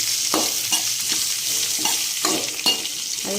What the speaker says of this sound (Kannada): ಇವಾಗ ನಾನು ಆನಿಯನ್ ಮತ್ತು ಚಿಲ್ಲಿನ ಹಾಕ್ಕೊಂಡಿದ್ದೀನಿ